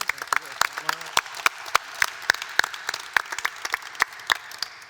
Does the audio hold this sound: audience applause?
yes